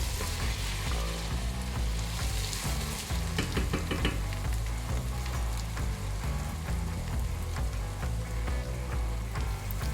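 Chopped carrots, garlic and vegetables cooking in a pot for a Spanish meatball sauce, a loud, dense, continuous sizzle and crackle with occasional stirring clatter, close up and steady throughout, no speech.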